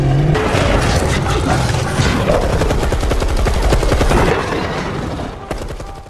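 Guards in a film open fire on a creature, with a loud, continuous burst of rapid automatic gunfire and overlapping shots that run for several seconds before tapering off at the end.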